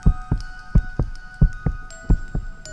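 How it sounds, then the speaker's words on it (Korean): A pounding heartbeat sound effect for a horror audio story: steady low double thumps repeat in a quick, even rhythm, close and prominent over a faint sustained hum. "오로지 쿵쾅대는 내 심장 소리만 들렸다."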